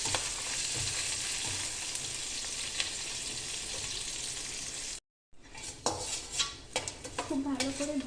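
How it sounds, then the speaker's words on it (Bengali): Flattened rice is fried in a pan with spices, giving a continuous close sizzle. After a short break, a spoon clinks and scrapes against the pan as it is stirred. No one speaks. "খুব ভালো করে ভাজতে হবে।"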